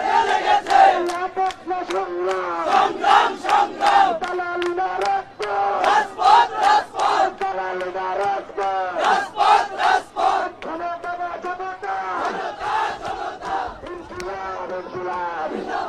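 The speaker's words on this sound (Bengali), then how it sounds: "আমরা দেখছি যেখানে স্লোগান দিচ্ছে এনসিপির কর্মী সমর্থকরা" A crowd of NCP activists and supporters chants political slogans outdoors in rhythmic, call-and-response bursts, loud and sustained, with voices rising and falling in unison over continuous crowd noise.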